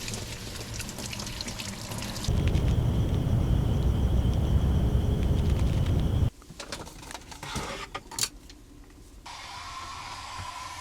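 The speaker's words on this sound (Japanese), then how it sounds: "シャンプーの後は顔を洗って全身を頭から洗い流していきます。" Water from a shower in a camper van rinses over a body, a steady rushing spray that later breaks into irregular splashes and drips before settling into a quieter, even flow; no talking.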